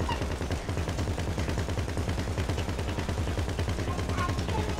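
Continuous rapid gunfire in GTA Online, dense and steady throughout, with no pauses.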